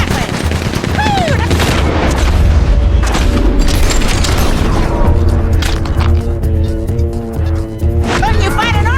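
A Gatling gun fires in the video game Red Dead Redemption II, with loud booming bursts and rattling volleys mixed with other gunfire, while game characters talk over the shooting.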